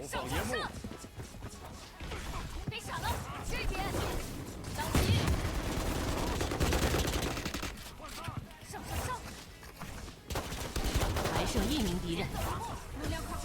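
Shotgun blasts and gunfire in the mobile shooter Valorant Mobile, crashing bursts layered over dense game music and effects, with players talking throughout.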